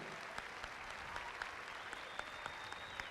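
At the Southwest High School 2018 graduation, the audience applauds the teachers: a steady, distant wash of many hands clapping, fairly faint, with a few sharper individual claps standing out.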